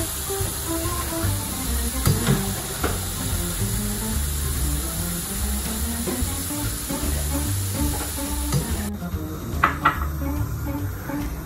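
Ingredients fry separately in the same oil in a pan for a Mallorcan frit, a steady close sizzle and hiss running throughout with faint clinks of utensils.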